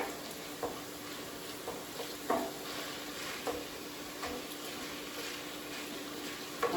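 Ground lamb and beef sizzle softly as they brown in a pan while a spoon breaks the meat up, with a steady low frying hiss and occasional clicks and scrapes of the utensil.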